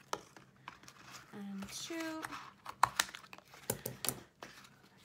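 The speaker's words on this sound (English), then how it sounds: "I'm just going to take my scissors and I'm going to cut off these parts inside the mouth." Scissors snipping through a cardboard egg box, a few close crisp cuts and crinkles mixed with handling clicks while a person talks.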